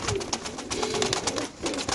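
Racer pigeons in cages at a pigeon farm coo softly in repeated low, throaty phrases, close by, over a busy background of chatter and shuffling.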